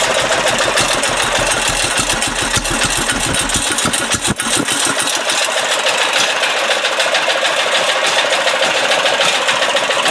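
A 10HP diesel garden tractor engine idles at its lowest setting, a loud, close, rapid knocking chug that runs steadily with no talk.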